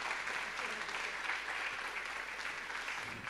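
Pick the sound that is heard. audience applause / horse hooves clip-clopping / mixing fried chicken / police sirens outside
audience applause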